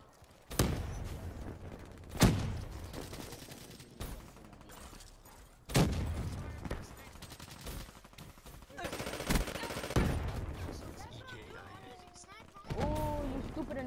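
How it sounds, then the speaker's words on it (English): Bursts of AK-74U gunfire in a video game, several sharp loud volleys spaced out over the clip amid game noise, with someone talking over parts of it. "He pulled out an AK-74U."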